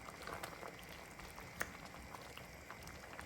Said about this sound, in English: Give it one last good mix and let it simmer just a few minutes more.